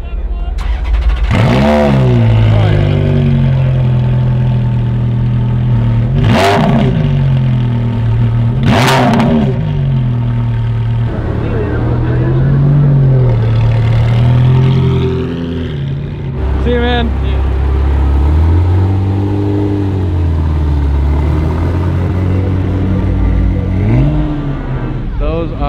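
A loud car engine at a Cars and Coffee meet revs repeatedly, rising and falling in sharp bursts, with rumbling idle between the revs and a few voices faintly in the background.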